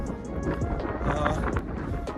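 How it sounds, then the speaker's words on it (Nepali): Strong wind buffets the microphone with a loud, rumbling roar and gusty low-end thumps throughout. "एकदमै हावा चलिरहेछ"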